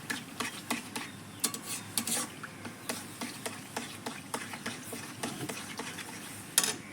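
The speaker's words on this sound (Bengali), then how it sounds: "এইভাবে আমি নাড়তে থাকবো, তালটাকে গলিয়ে নেবো দুধের সঙ্গে।" Palm fruit pulp being stirred into milk in a pot, a spoon scraping and knocking against the metal in a steady irregular rhythm, with one sharper clink near the end, close and moderately loud with no talking.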